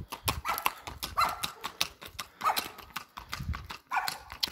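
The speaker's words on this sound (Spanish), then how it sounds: "Tan bonitos los caballos." Horses' hooves clip-clop on a road in Santa Eulalia, Chihuahua, with a steady rhythm of sharp, close strikes across the whole stretch and no talk over them.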